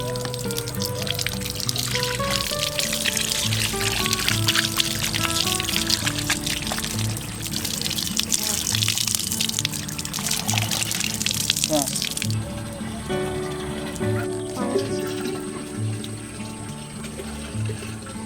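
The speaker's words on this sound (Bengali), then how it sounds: "জল দিয়ে ধুয়ে নেবেন ছানাটাকে পুরোপুরি।" Cold water pours and splashes over chhena, fresh cheese curds for rasgulla, being rinsed in a kitchen, a loud, steady running-water rush with someone talking over it.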